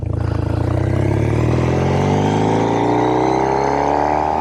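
A Triumph Thruxton 900 motorcycle engine pulls up through first gear, its loud, throbbing exhaust note rising steadily in pitch as it accelerates close by.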